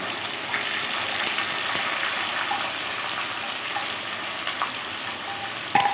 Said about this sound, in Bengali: তো আমি দু মিনিট মতো একটু পেঁয়াজটাকে ভালো করে ভেজে নেব